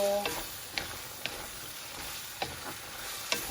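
Chopsuey vegetables stir-fried over high heat in a pan, a steady soft sizzle with several sharp clacks of a utensil scraping and tossing at irregular intervals.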